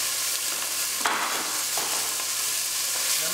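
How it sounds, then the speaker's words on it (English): Mince sizzling in a hot oiled pan for cottage pie, a steady broadband frying hiss with brief stirring scrapes, close and fairly loud, no talking. "You want to hear that nice sizzle."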